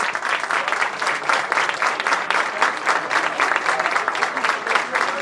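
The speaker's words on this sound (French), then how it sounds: "En tout cas, l'ensemble du stade l'applaudit." Football stadium crowd at a Swiss second-division promotion final claps continuously, a loud, dense patter of applause with faint voices mixed in, steady for several seconds.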